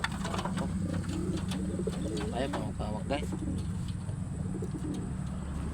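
Pigeons coo repeatedly in soft, throaty bursts nearby, while a person talks over a constant low background hum.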